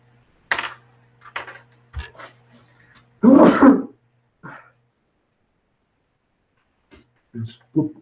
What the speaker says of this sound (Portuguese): Acho que eu vou espirrar.